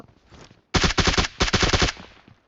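Two rapid bursts of automatic gunfire in PUBG Mobile, loud and close, with a brief gap between them, followed by fading echo.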